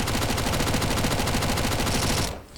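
A MAC-10 submachine gun fires in a video game, a loud unbroken full-auto burst of rapid, evenly spaced shots that cuts off just before the end.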